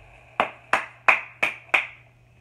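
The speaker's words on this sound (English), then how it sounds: "I'm clapping." Five sharp hand claps in an even, moderately quick rhythm, close and distinct over a faint steady hum.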